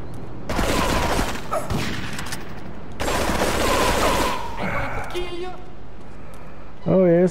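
Gunfire in the video game GTA 3 comes as dense, loud bursts of rapid automatic shots in two long stretches, with someone speaking over it in between.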